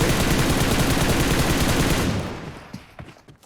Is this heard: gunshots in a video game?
yes